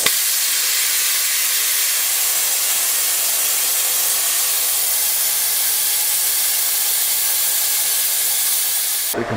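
A Baileigh plasma table cuts through metal with a steady, loud hiss that holds almost unbroken for the whole stretch, then stops abruptly at the end.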